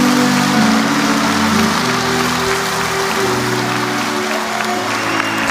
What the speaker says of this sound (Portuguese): Quem crê nisso, aplauda ao Senhor.